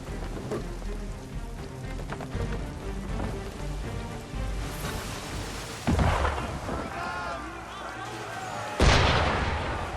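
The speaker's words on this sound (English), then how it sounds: "Why is he shooting at us?" Naval cannon fire in Assassin's Creed III Remastered, two heavy booms several seconds apart rolling out over a continuous bed of rain, wind and sea ambience.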